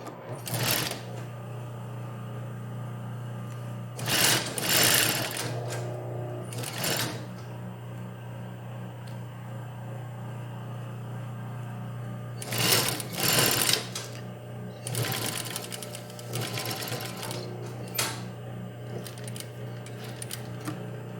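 A sewing machine runs close by, topstitching fabric in several bursts of rapid clattering stitching, with pauses and a steady motor hum between them.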